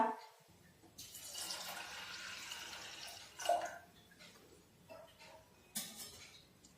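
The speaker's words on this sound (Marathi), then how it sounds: "1 ग्लास पाणी टाकूया।" About a glass of water poured into a pressure cooker holding rinsed toor dal, making a steady splashing rush for a couple of seconds, with a few small clinks and drips afterward. No one speaks.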